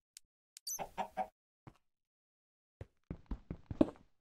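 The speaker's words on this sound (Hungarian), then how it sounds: "Nézd meg, itt van az őrző, a csirke." A chicken in the video game Minecraft clucks in short scattered bursts, a few early and a denser run near the end, separated by silence and fairly quiet with no talking.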